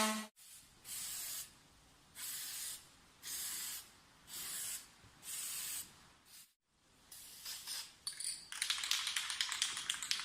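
Spray paint hisses from a can onto the inside of a lamp part in five even bursts, each about a second long. Fainter rattling and handling noises follow, then a brighter burst of spray.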